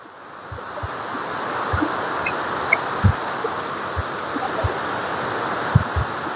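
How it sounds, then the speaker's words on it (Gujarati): Heavy rainwater pouring down large hillside temple steps after a night of rain, a constant broadband rushing roar with occasional low thumps close to the microphone. "તો જુઓ કે સુંદા માતાના ભાખર ઉપરથી પાણી કેટલું બધું આવે છે।"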